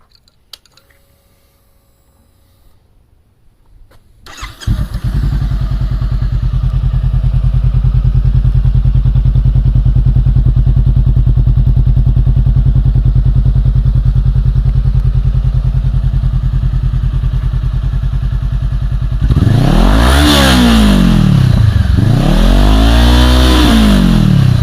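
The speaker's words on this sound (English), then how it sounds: "I'll let you guys hear the new exhaust. Let me go ahead and start it up." A Honda CBR500R motorcycle with a Musarri exhaust and no baffle cranks and starts after a quiet moment, then idles loudly with a deep, even rumble, and near the end it revs in two rising and falling surges.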